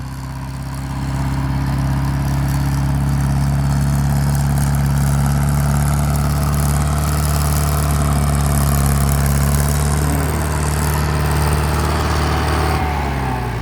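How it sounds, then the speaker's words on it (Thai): A large farm tractor engine runs steadily at a work site where earth is hauled for land filling. It makes a loud, continuous low drone, close by and unbroken throughout. "ได้รถไถใหญ่ก็อย่างเงี้ยฮะ"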